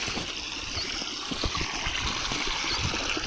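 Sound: water flowing from pump outlet

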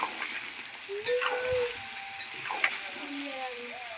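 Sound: mangoes frying in a pan for pickle

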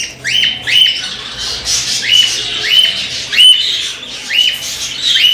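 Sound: cinnamon ino cockatiel squawking while held

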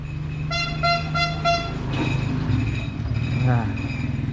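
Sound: ice cream truck passing by

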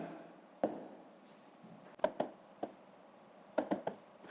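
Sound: writing numbers by hand

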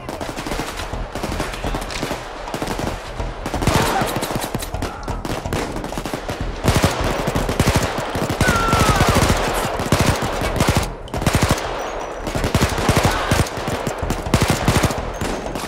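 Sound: gunfire in the video game PAYDAY 2

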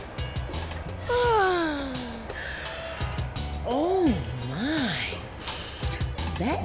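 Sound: yawning

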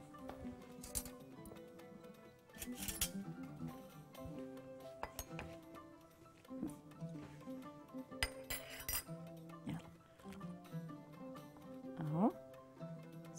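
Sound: stirring food in a dish with utensils

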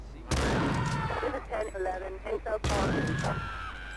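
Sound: shotgun fire in a video game

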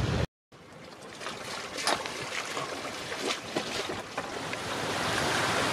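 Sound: sailboat sailing in wind and waves

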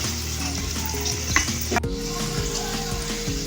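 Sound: green chilli tempering sizzling in hot oil

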